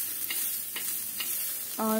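Onions frying in a pan for dhaba-style shev bhaji give a steady, soft sizzle with a few light stirring scrapes, and a voice briefly starts at the end.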